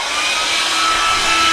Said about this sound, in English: I'll heat it up with a hairdryer just to show you